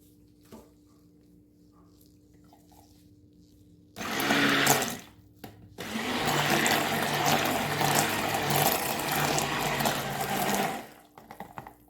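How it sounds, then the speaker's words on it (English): A stick blender whirs through lye water and oils for castile soap in two loud bursts, a short one and then a longer run of several seconds, with quiet gaps and faint handling noise around them. "And we're gonna go ahead and blend."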